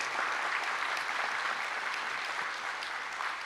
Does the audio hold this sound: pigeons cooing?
no